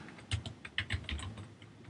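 Quiet, close typing on a computer keyboard, a short irregular run of soft key clicks over a faint background hiss.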